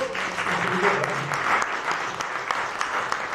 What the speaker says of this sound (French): on va vous applaudir bien fort